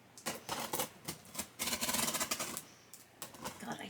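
Packing tape is peeled and ripped off an unboxed Shallow Grave FX package in several close, rasping tearing bursts, one long pull in the middle and short tugs around it, with no talking.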